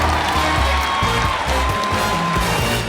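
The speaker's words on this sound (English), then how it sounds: "Big round of applause." An audience at a live show applauds and cheers after a song, a steady dense wash of clapping with a voice speaking over it.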